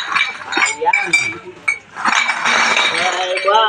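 Glass bottles clinking and knocking together while being collected for scrap, a busy run of bright clinks, close and loud, mixed with a person talking throughout.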